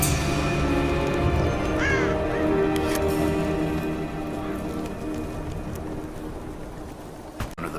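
In the Soviet Installation mission of Rise of the Tomb Raider, a crow gives a few faint caws over a steady wash of rain-like background noise.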